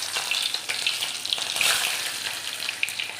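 Sliced bitter gourd frying in a pan for a curry, a steady close crackling sizzle with brief bursts of spattering throughout and no voices over it.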